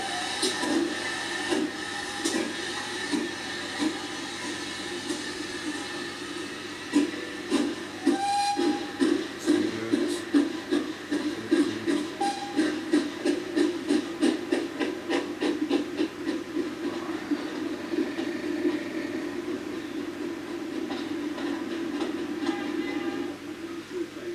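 A train rumbles past nearby with rhythmic clattering chuffs that quicken and fade, a brief whistle sounding partway through.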